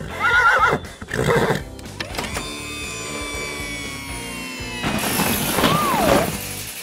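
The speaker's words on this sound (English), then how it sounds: "your siren neighs just like a horse." A siren whinnies like a horse, rising and falling neighs with clattering crashes and a sustained ringing tone between them.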